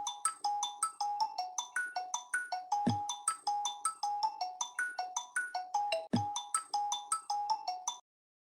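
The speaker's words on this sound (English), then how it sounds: "That year, your dad's phone rang." A phone ringtone plays a repeating melodic chime pattern over about eight seconds, clear and close, then stops abruptly. No voices are heard.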